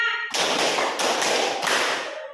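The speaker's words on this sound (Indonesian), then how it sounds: "Tepuk 1, tepuk 2, tepuk 3," Group hand clapping to a counted classroom rhythm, a dense continuous burst of many claps with two louder surges, fairly close and with no talk over it.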